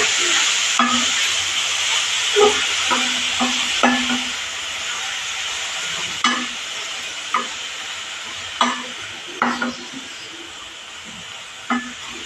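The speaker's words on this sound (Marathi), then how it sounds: "गाजर सुंदर असं मस्त तुपावर परतून झाकण ठेवून शिजवून घेऊया चांगलं।" Grated carrots sauté in ghee for carrot kheer, a continuous close sizzle punctuated by repeated scraping, clinking stirs of a spoon against the pan.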